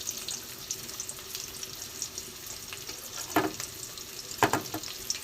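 Onion and chopped garlic frying in a pan, a soft continuous sizzle with a couple of louder stirring scrapes and clatters near the end.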